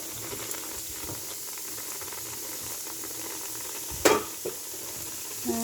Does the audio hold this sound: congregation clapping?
no